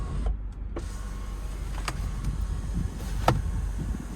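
The one-touch sunroof of a 2026 Genesis G70 2.5T Prestige slides shut with a steady, close electric motor whir, marked by a few light clicks and a soft thump near the end. No one speaks.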